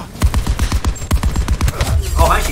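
Rapid bursts of light machine gun fire from a TITAN LMG in Call of Duty Black Ops 4, a dense close-range fusillade of sharp repeated shots with a few heavier impacts mixed in.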